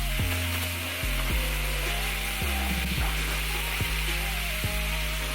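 Garlic and mushrooms frying in a pan, a steady loud sizzle with occasional stirring clatter throughout.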